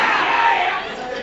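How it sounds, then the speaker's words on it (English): At an anime convention panel, girls in the audience let out a high-pitched collective cheer and scream, loud and bright at first, then fading over about a second. "Why does it not surprise me that was all girls cheering?"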